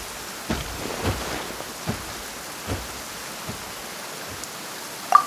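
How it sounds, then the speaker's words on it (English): Steady rainfall in the video game Genshin Impact, a soft continuous hiss with a few faint low thumps scattered through and a brief sharp click at the very end. "Perhaps today's rain arrived thanks to you."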